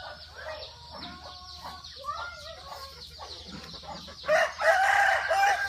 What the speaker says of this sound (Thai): หนูไปดูไก่แล้ว ไก่ไปอยู่ไหนไก่ไปอยู่ไหน